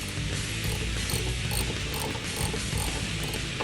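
Ratchet wrench clicking steadily on the battery terminal of a 1967-1973 Mustang as it is disconnected, a dense, continuous close-up ratcheting with no pause, played alone.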